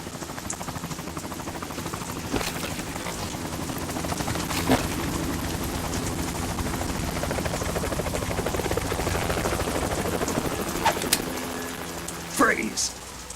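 Helicopter in the video game Metal Gear Solid 2: Substance: a steady, loud rotor and engine drone runs through the whole stretch, with a few sharper bursts and a brief rise near the end.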